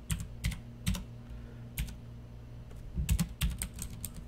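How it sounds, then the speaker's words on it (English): Someone types on a computer keyboard in irregular bursts of crisp key clicks with short pauses between them, close and fairly quiet, with no talk. "No, I'm just going to type it in."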